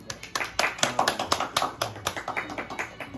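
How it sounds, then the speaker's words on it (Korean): Audience applause at a scholarship certificate award ceremony, a brisk run of separate, fairly close claps from a modest crowd that keeps a steady rhythm throughout. "여러분들 큰 박수 부탁드리겠습니다"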